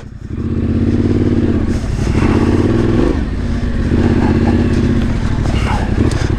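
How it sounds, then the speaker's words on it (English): A Yamaha Tenere 700 motorcycle with a modified stock exhaust roars loudly up close, its exhaust rumbling and revving in waves for several seconds. "just how loud this bike is really going to be"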